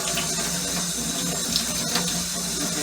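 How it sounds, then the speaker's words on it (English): Steady running tap water splashing into a sink while quinoa is rinsed, a continuous close rushing sound with no voices. "So just run it through the water."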